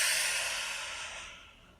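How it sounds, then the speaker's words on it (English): A long, steady exhale released through the mouth during a guided meditation, starting strong and breathy and slowly fading over about two seconds, close and alone. "Keep breathing."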